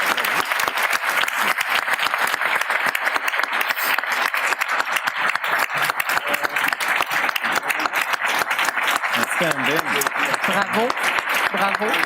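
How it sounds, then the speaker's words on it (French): An audience at a president's luncheon gives a loud, dense, sustained round of applause to thank the morning's speakers, with faint voices and cheers rising near the end. "Une bonne main d'applaudissements."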